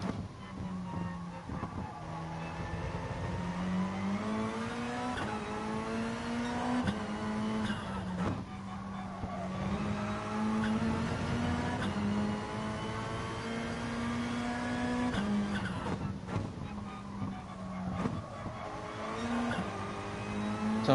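A GR3 race car engine drones through laps of Brands Hatch in a video game, a continuous loud buzzing roar rising and falling with each gear change and braking point, with occasional tire squeal.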